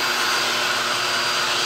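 A vacuum cleaner drones loud and steady at close range, a constant whooshing motor roar with no breaks as it sucks up dust and hair.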